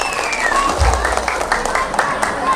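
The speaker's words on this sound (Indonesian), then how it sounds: "Tepuk tangan dong untuk Gus Muhaimin." A crowd at an outdoor political rally claps at a lively, steady pace, with a low thump early on and the rattle of many hands filling the space.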